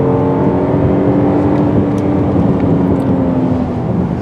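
A 2020 Kia Telluride SUV accelerating from inside the cabin, a steady droning engine note with rising tone and road rumble, continuous and fairly loud with no talk.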